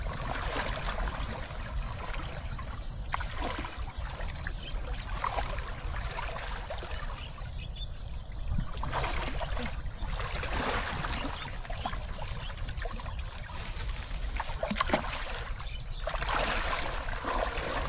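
A strong river current rushes steadily past a fishing spot, a constant low wash of moving water with a few faint splashes and knocks, and no talking.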